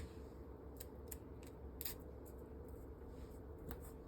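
Scissors snip through a paper sleeve pattern, cutting it in half with a run of crisp, separate clicks spaced unevenly over a quiet background, close and fairly faint with no voices.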